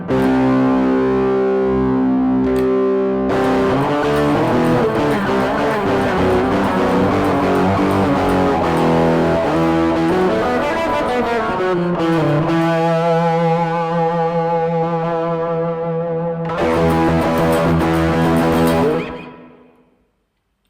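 Eko 700 electric guitar from 2010, played through an echo effect unit, ringing out distorted, repeating chords and notes loudly for about twenty seconds, with a short gap near the start and a final burst that fades out.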